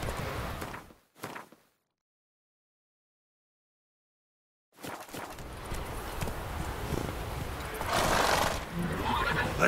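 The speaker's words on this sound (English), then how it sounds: "Whoa there, Roach. Come on now." A horse in the video game Witcher 3 whinnies and its hooves clop in a short burst. After a few seconds of silence, steady hoofbeats and game ambience continue at moderate loudness with no talking.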